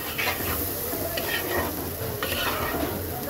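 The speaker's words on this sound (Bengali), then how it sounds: "এবার মশলাটাকেও কয়েক মিনিট সবজির সাথে ভাজা ভাজা করব" Vegetables fry with turmeric and coriander powder in a hot pan, giving a continuous soft sizzle under repeated scraping stirs of a spoon against the pan.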